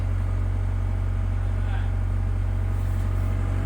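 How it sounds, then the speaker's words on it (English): A skid steer raises its bucket slightly to lift a beam during placement at a house build, giving a steady, loud, close low engine drone that runs unbroken throughout, with faint background voices. "Brad's gonna use the bucket here on the skid steer to just lift up a bit"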